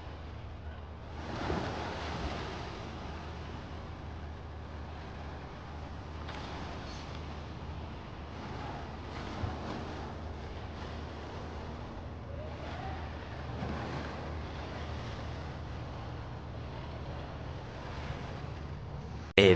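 Steady broadband wash of running water fills the whole stretch, continuous and fairly close, with a low rumble underneath and no talking.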